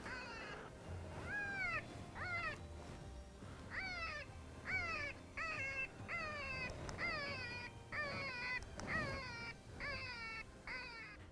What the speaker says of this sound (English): We just heard a bunch of coyotes howling back over here